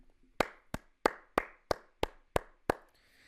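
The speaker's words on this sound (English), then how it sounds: "Those aren't sarcastic claps." One person claps slowly and deliberately, eight sharp, evenly spaced claps close to the mic in a quiet room, each with a quick decay, no voices.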